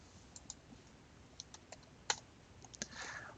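Soft, scattered keystrokes on a computer keyboard enter an airport code into air traffic control software. The clicks are faint and irregular over a steady background hiss, and no one speaks.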